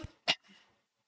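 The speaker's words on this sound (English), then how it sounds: "I'm talking so much, that's why coughing." A single sharp cough bursts out close to the microphone, brief and loud, with only faint murmur before and after.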